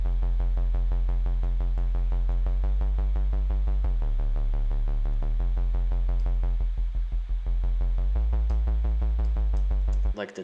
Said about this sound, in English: the LFO one, which is connected to the cutoff here